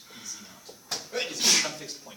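A single sneeze bursts out in a classroom during a mathematics lecture, loud and sharp amid the lecturer's ongoing speech about points in the plane.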